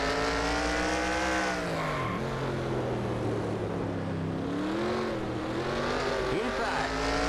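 Race car engines drone loudly and without a break as cars circle the track in a racing video game, pitch swelling and dipping with the throttle, with faint talk underneath.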